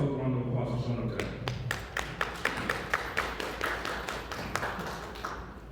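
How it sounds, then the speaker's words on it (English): Scattered hand claps from a small audience at a talk on marketing and networking, sparse and uneven rather than a full ovation, with a speaking voice running over them. "give yourself a round of applause for showing up today"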